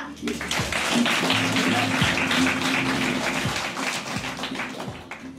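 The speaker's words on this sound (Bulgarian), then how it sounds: "Аплодисменти за Пламена" An audience applauds after the premiere of a play. The clapping is dense and continuous, and a voice speaks over it.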